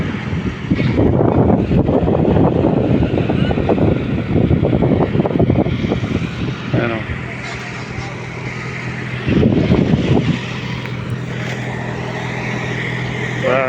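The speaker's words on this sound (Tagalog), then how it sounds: "Grabe ang hangin." Strong sandstorm wind gusts past a lifting site hard enough to sway a 750 kg load. The roar is loud, broad and steady, with heavier surges and brief faint voice-like sounds in the background.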